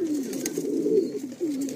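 A Madrasi pigeon coos close by, a steady, throaty rolling call repeated in low swelling phrases without pause and fairly loud throughout.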